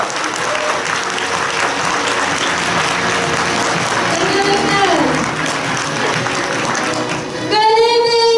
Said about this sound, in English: The longer your applause will come,